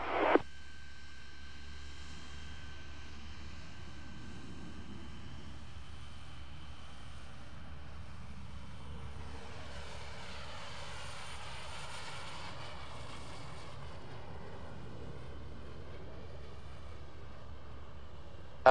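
Airliner engines spool up for takeoff on runway 01 at an airport, a steady broad roar with a high whine that swells slightly midway and holds loud and continuous throughout.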